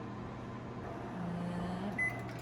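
A microwave oven runs while heating food, with a steady low hum throughout and a brief higher tone near the end.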